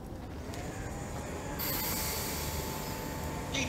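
Train pulling in alongside a station platform, a steady rumble of wheels with a brighter metallic hiss building midway, continuous and fairly close, with no talk.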